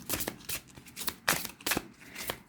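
Tarot cards being shuffled and drawn during a reading, a run of brisk papery riffles and slaps in uneven bursts, close and fairly quiet, with no talk over them.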